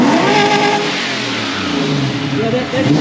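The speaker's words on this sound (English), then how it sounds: "It sounds like it revs now." A Toyota 1UZ V8 engine in a Surf revs hard and loud, its pitch climbing and falling as the throttle is worked, with a steady running roar underneath.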